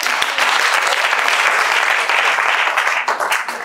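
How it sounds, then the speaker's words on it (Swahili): An audience breaks into sustained applause, many hands clapping densely and evenly for a few seconds before thinning out near the end. "Naomba mumpigie makofi."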